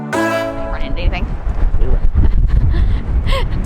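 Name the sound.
strong wind blowing on the microphone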